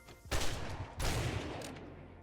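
Gunfire in the video game 7 Days to Die: a rapid burst of shots followed by a second burst, loud and close, trailing off into a ringing tail with no talk.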